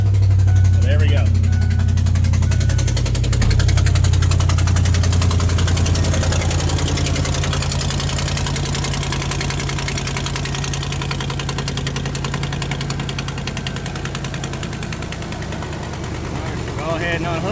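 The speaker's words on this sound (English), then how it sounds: "As you can probably hear, I got an exhaust leak." A truck engine idling with an exhaust leak, just after a jump start with a portable jump starter. It runs as a steady, loud low rumble that eases slightly over time, with a person talking briefly at the start and near the end.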